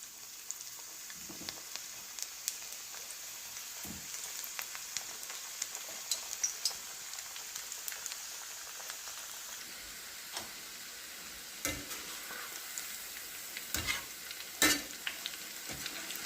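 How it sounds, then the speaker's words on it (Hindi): Onion bhaji frying in hot oil, a quiet continuous sizzle with scattered small pops and crackles, plus occasional louder clicks from handling in the pan. "आता आपण भजी तळूया।"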